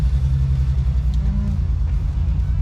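An old BMW 733i sedan idles with an even, deep, throbbing hum at close range, holding a steady pitch, while a voice briefly speaks faintly over it.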